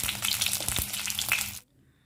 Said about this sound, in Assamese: এতিয়া কেৰাহীখনত তেল গৰম কৰি ইয়াত মাছখিনি